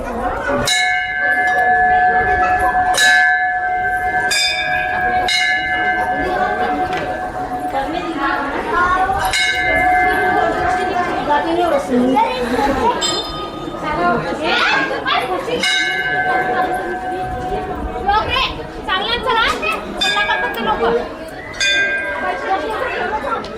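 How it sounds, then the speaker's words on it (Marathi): A metal temple bell at the hilltop Rajur Shri Ganpati temple rings out in repeated clanging strikes, ringing and overlapping through steady crowd chatter and people talking nearby. "ही घंटी"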